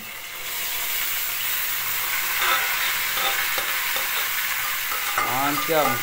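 Marinated chicken leg pieces, coated with ginger, garam masala, chili, salt and oil for a curry, sizzle loudly in a pan and are stirred, a dense close frying hiss with scraping strokes and a brief voice near the end.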